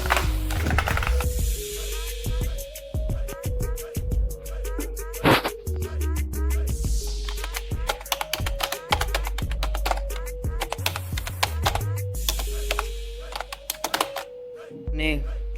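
A Redgear Blaze keyboard clacking under fast, uneven typing while GTA is played on a laptop, close and sharp, with game audio humming beneath and bursts of louder keystrokes.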